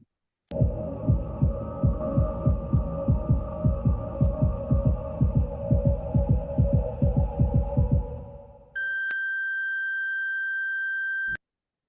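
An ICU-style heart monitor beats in a steady, rapid electronic rhythm over a low hum, fades out, then gives way to a loud flatline tone that holds alone.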